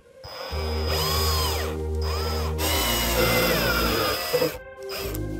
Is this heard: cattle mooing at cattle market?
no